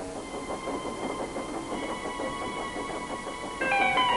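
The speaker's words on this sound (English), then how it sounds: "Then Thomas set off into the misty night." A cartoon steam tank engine runs through a misty night, with a steady rhythmic clickety-clack of wheels on rails under a continuous rumble, and a brighter tonal whistle-like sound joining near the end.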